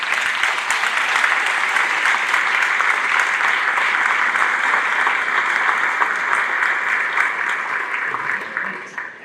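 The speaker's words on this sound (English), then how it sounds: "Let's give you a round of applause for all your help." Sustained applause from an audience at a school band concert, dense and steady clapping filling the room for several seconds before tapering off at the end.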